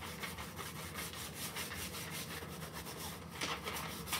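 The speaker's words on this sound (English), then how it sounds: "I'm gonna burnish it with this just to make sure everything's laying down." A transfer sheet is burnished onto a wooden rolling pin with a tool, giving a soft, steady, close rubbing scrape in continuous strokes at low level, with no voices.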